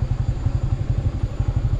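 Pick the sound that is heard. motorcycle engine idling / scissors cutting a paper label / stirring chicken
motorcycle engine idling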